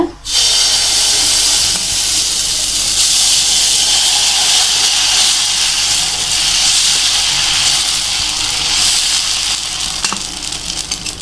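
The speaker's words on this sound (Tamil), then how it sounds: "கேழ்வரகு மாவு வச்சுருக்கேன் அதில் ஒரு தோசை ஊற்றுறேன்" Ragi dosa batter spread on a hot pan gives a loud, steady, hissing sizzle that starts sharply and holds nearly unchanged for about eleven seconds, close up with no talk.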